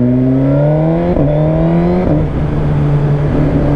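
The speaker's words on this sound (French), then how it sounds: "Oh, le petit retour à l'échappement." A Suzuki GSX-R 1000 motorcycle with a titanium exhaust line revs hard, its engine note climbing and dropping back in a few surges, loud and close, with a sharp exhaust backfire crackle as the revs fall.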